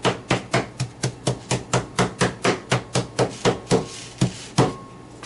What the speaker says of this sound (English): pound your steak out as flat as you can